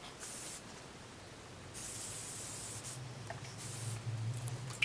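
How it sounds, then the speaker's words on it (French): An aerosol can sprayed onto the skin below the deltoid before shoulder strapping, heard as several hissing bursts of about a second each, separated by brief pauses, fairly close and moderately loud. "Donc on va mettre de la bombe sous le vélétoïdien."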